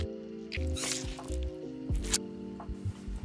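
A large syringe injection in the game Hunt: Showdown, heard as a series of soft, wet squishing sounds over a low, steady ambient hum, ending with a few quieter squelches.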